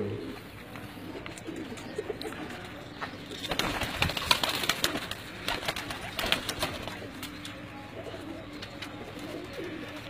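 Pigeons coo softly in a busy, noisy setting, with bursts of clattering and fluttering around them.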